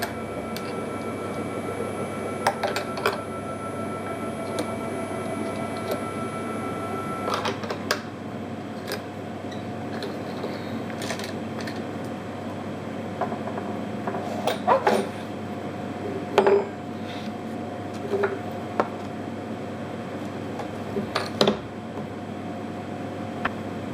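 A Syil CNC mini mill reams out holes in a DIY tool holder, producing a steady machine hum with sustained whining tones. Scattered sharp clicks and ticks recur throughout.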